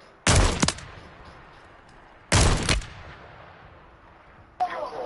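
Video game firefight with two loud, close bursts of rapid gunfire a couple of seconds apart, followed by a fainter burst near the end.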